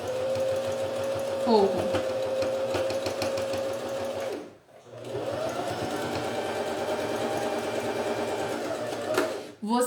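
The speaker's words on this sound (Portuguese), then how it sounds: "eu vou vir aqui, ó, e vou costurar o viés no mesmo lugar" A sewing machine stitches bias binding onto a fabric pouch with a fast, even mechanical whir. It runs steadily, stops briefly midway, then resumes, and someone speaks over it.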